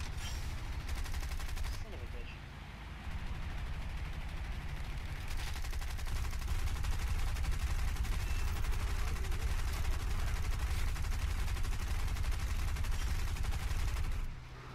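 Sustained video-game gunfire, dense and continuous with bursts of automatic fire and heavy explosions, loud throughout for about fourteen seconds before dropping off at the very end; no talk over it.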